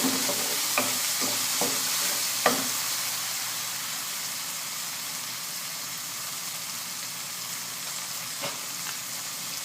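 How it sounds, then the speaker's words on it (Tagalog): Cubed chicken breast fries in a pan for spicy afritada, with a steady close sizzle, a few sharp clinks and scrapes from stirring early on, then an even hiss. "Ilagay na natin ang ating 1 chicken breast cube."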